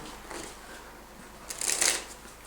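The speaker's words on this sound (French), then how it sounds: "il peut redonner le paquet à mélanger" A deck of playing cards riffled and shuffled during a close-up card trick, with a soft early flutter and then a louder, crisp burst of riffling near the end, heard close with no speech.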